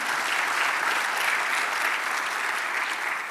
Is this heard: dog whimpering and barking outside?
no